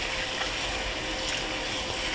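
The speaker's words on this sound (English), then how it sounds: "all you need is lukewarm water to wash your beans and just rinse it a few times" Black beans being rinsed by hand in lukewarm water, a steady close wash of running, splashing water with no break across the short stretch.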